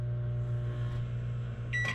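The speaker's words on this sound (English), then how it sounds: "Got a self-explanatory microwave here" A microwave oven in a 2017 Keystone Hideout travel trailer humming steadily close by, a constant low drone, ending with a short high electronic beep.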